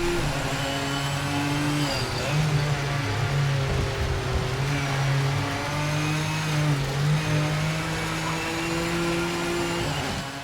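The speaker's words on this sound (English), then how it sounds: "Whether it's a flat 6, V12, 5-cylinder turbo or V8, they all sound really mechanical and rich." A race car engine in Project Motor Racing drones and revs steadily, its pitch climbing and dipping through gear changes, loud and continuous with a rich mechanical tone and no voices.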